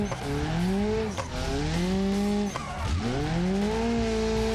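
A drifting car in the BeamNG driving game, clutch-kicked into slides: a loud, steady engine roar rising and falling in pitch through several gear surges, with tire squeal over it and no talking.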